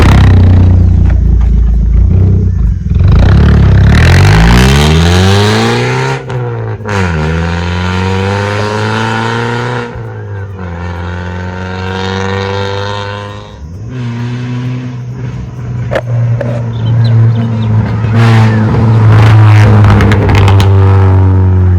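A Maruti Ertiga fitted with an aftermarket valvetronic exhaust revs hard again and again, each loud blip rising and falling, with sharp crackles and pops bursting out near the end and no talk.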